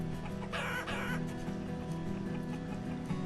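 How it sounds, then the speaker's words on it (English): Chickens clucking in the village-building game Banished, a busy overlapping flock of clucks and squawks with a steady ambient bed beneath. "Though I do find the chicken sound quite annoying"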